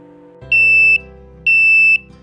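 A buzzer wired to a Tasmota device and triggered by Home Assistant sounds two loud, shrill electronic beeps of about half a second each, evenly spaced over a low background hum.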